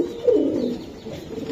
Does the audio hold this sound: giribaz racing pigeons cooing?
yes